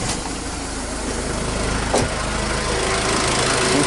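A diesel Ford Ranger engine runs at a steady idle, close and loud, with a dense even rumble and a single brief knock partway through and no talk.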